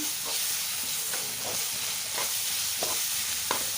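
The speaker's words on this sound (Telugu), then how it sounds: "కొంచెం అల్లం వెల్లుల్లి పేస్ట్ని కూడా యాడ్ చేసుకొని మంచిగా కలుపుకోవాలి" Ginger garlic paste fries in hot oil in a pan, giving a steady close sizzle broken by several short scraping stirs.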